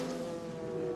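Lister Dallara MG sports-prototype race car at the 2003 American Le Mans Series round at Road Atlanta, its engine droning steadily as it passes, a sustained mid-distance roar with no talk over it.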